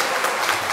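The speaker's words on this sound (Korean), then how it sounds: "함성과 박수를 이분들에게 보내주는 겁니다" A church congregation claps in a brief, dense burst of applause, close and steady.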